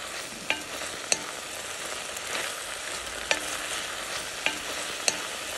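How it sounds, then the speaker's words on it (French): Vegetable peelings sweating in a covered cooking pot give a faint, steady low sizzle with a few sharp ticks and pops scattered throughout, and no voices. "Je couvre le faitout et je laisse suer les épluchures quelques minutes pour qu'elles deviennent tendres, mais sans les brûler."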